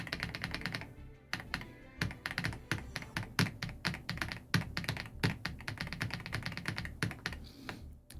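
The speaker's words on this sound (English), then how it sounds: "there's a click to it, but it's not the mechanical click of the previous keyboard" Typing on a new keyboard with quiet, understated clicky switches, rather than loud mechanical clicks: a steady, close run of rapid small clicks and taps with short pauses, alone and with no talking.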